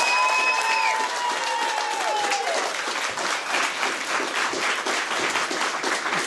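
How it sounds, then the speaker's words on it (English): A television studio audience claps warmly at the end of a show, dense sustained applause throughout, with a brief sliding whistle-like tone fading out in the first couple of seconds. "For the final time this series, give the man a clap."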